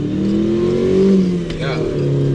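A modified Proton Satria GTI's engine revs hard on the move, a loud, close, throaty drone that climbs and dips in pitch as the car accelerates through a corner and over bumps.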